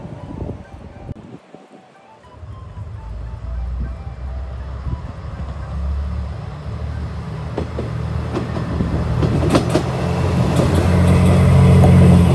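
A Pokémon-decorated train rumbles into a station on the Kesennuma Line and grows steadily louder over several seconds, with rattling wheels and screeching metallic squeals as it draws close.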